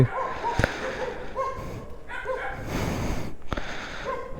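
Dogs barking at night along a delivery route, a few sharp, loud barks spaced apart with quieter yips and snorts between them.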